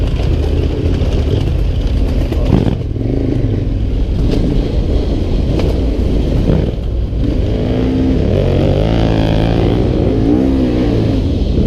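A KTM 1190 adventure motorcycle rides along the Western Australian coast, its engine droning loudly and steadily with wind rush and rising revs as it accelerates, no talk.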